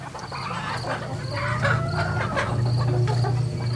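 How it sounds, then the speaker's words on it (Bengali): Poultry-house chickens break into a midnight commotion in a Bengali horror audio drama, clucking and squawking loudly and continuously, close by and layered together, with no voices over them. "পোল্ট্রির ওদিকে সব মুরগিগুলো একটা হুলস্থুল কাণ্ড বাঁধিয়েছে।"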